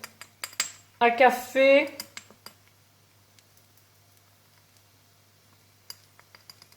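A teaspoon clinking against a bowl while madras curry is stirred into quinoa: a brief spoken phrase near the start, then scattered, light, quiet metallic taps.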